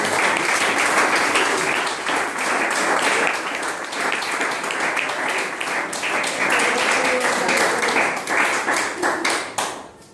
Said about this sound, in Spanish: ¿Quiénes aplauden a Jesucristo?